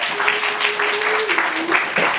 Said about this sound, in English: Can we have a round of applause for each and every one of them?